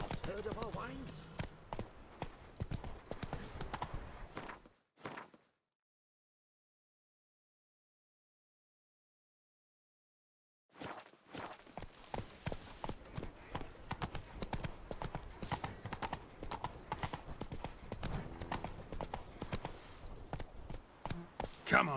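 Roach, a horse in The Witcher 3, gallops with fast, rhythmic clip-clop hoofbeats. The hoofbeats break off into a few seconds of silence, then resume at a brisk pace.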